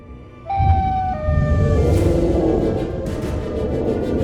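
A loud, high-pitched Siren Head wail in Minecraft rises abruptly and holds, its tones bending and shifting while a rough roaring noise swells beneath it.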